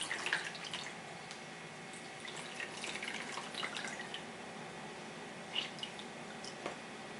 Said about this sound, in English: we're just going to wring this out